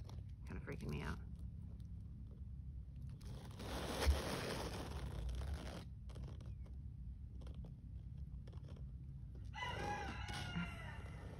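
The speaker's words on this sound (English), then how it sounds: "You can hear a rooster in the background." A rooster crows somewhere in the distance, faint against steady outdoor background noise, with a brief louder knock partway through.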